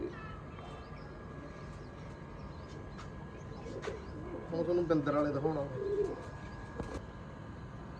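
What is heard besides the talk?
pigeons cooing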